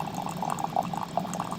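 Water streams from a filtered hot-and-cold water dispenser in a steady, close, continuous flow with a soft splashing texture and no talking.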